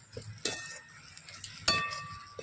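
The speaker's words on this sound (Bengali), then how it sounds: "এবার সবকিছুকে ভালো করে মিশিয়ে নেব আলুর সঙ্গে।" Spoon scraping and clinking against a bowl while chaat masala and turmeric are mixed into a mashed potato filling, with a couple of sharper clinks among soft stirring sounds, close and without talk.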